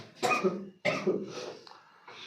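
Two harsh coughs close by, one right after the other, followed by a faint throaty rasp.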